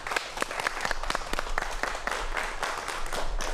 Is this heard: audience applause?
yes